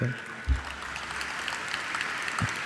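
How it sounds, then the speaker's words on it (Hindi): A seated audience at a religious discourse in Indore claps steadily, a dense, even patter filling the hall, while a voice carries faintly over it. "देखो कितनी बढ़िया ताली बजा रहे"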